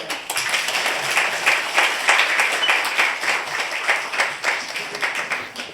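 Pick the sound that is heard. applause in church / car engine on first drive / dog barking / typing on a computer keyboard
applause in church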